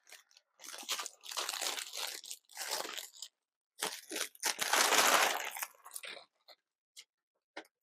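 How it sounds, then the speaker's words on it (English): Crinkly Tyvek mailer packaging being handled and folded, giving bursts of close, loud crackling and rustling in uneven clusters, with a few brief crinkles trailing off at the end. "Tyvek is this like crinkly kind of material."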